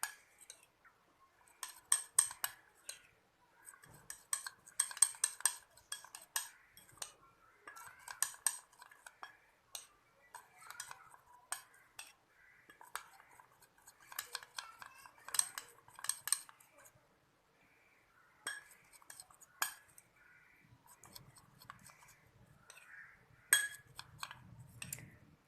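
Homemade face mask of potato and rice with a few drops of oil stirred in a small bowl, faint intermittent clinks and scrapes of a spoon in bursts with quiet gaps between.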